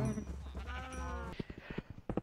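Minecraft cows lowing in a short run of harmonic moos, followed by a quick series of soft clicking steps or taps, fairly close and clear.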